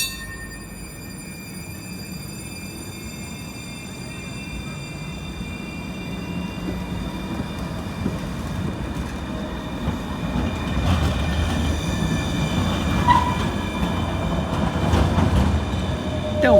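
A tram rolls past on the street in Delft, a steady rumble with high whining wheel and motor tones swelling toward the end, heard without talk.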